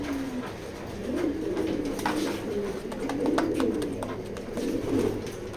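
Racing pigeons coo steadily inside a loft, their low rolling calls overlapping continuously at close range, with scattered wing flutters and small knocks in the background.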